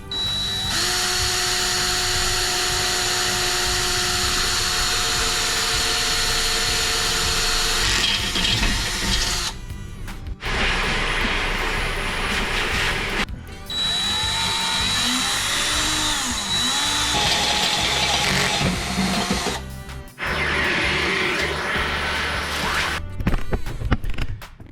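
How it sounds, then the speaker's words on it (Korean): Inside a van, a power drill bores a small hole in the floor near a frame rail. It runs in several bursts of high whine with short pauses between them, close and loud, with no speech. "여기 이제 제가 조그맣게 구멍을 뚫었는데"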